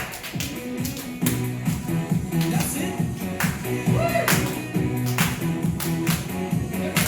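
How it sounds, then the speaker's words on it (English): Rhythmic hand clapping at a church vacation Bible school, steady claps roughly once a second blended into a loud upbeat song with singing. "Come on, clap your hands."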